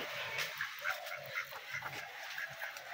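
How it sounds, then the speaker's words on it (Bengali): Ducks quack outdoors, their calls faint and repeated in short, uneven bursts over a soft background hiss. "দেখেন হাঁসগুলো কি করছে"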